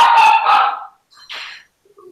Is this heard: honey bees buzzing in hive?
no